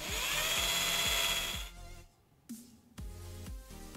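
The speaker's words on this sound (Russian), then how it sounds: "до середины засверлю отверстие вот таким вот тоненьким сверлом" A thin drill bit bores a pilot hole partway into the mount of a DIY fishing or beach umbrella ground anchor, a steady high whine that stops, followed by a few short restarting bursts.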